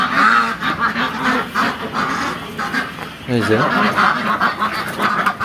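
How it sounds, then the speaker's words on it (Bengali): Pekin ducks, a meat breed, on a farm, with a dense chorus of nasal quacks and honks close by that goes on throughout, and a voice heard briefly among them. "এগুলা চায়নার বেজিং হাঁস"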